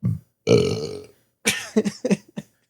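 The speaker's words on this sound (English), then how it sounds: "that was a good burp" A loud, close burp rumbles out for about half a second after a brief vocal sound, followed by a few short chuckling bursts of laughter.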